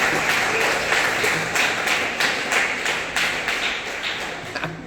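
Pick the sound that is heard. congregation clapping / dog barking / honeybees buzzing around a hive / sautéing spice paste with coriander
congregation clapping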